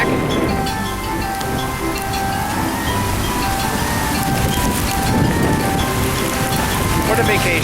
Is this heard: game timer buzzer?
no